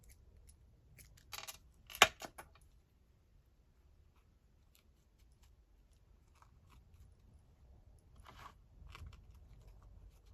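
Scissors snipping pearly trim, heard as a few crisp close cuts clustered early, one sharp loud snip, then faint scattered rustles in a quiet room.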